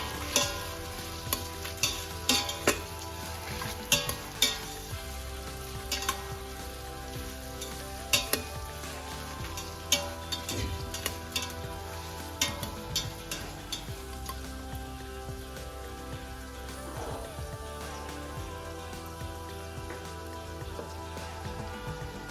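Onions sautéing in an Instant Pot for a vegetable biryani, with salt added, a steady soft sizzle under repeated clattering stirs and scrapes of a spoon against the pot, close and continuous with no talking.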